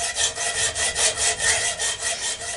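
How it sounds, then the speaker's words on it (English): A hand saw cuts through the exhaust pipe of an 18 hp twin engine on a go-cart, with about ten quick, even back-and-forth rasping strokes, close and clear, with no talking. "Now the next thing to do is cut the exhaust off."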